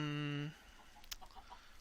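Chickens in the Minecraft Better Than Wolves mod, with a loud, sustained clucking call that cuts off after half a second, followed by faint scattered game noises.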